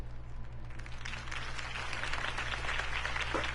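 Crowd applause from a city rally in the Batman Telltale game, a steady broadband patter of many hands held throughout, moderately loud with a constant low hum beneath.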